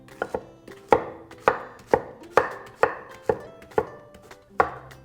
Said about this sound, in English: And just cut your zucchini.